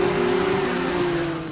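Porsche Cayman engine in the racing game NFS Rivals, a steady, loud mid-pitched hum holding constant before easing slightly at the end, with no voices.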